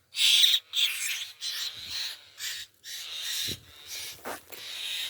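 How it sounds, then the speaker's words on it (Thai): A hill myna mother bird calls repeatedly in short, breathy squawks with brief gaps between them, fairly close and otherwise quiet. "ได้ยินเสียงแม่นกแล้วครับ"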